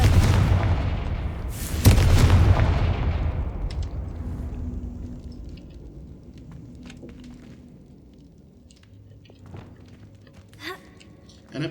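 A Confringo fire-blast spell in Hogwarts Legacy bursts with a loud boom near the start, then a second sharp blast, followed by a long fading rumble and scattered faint game sounds.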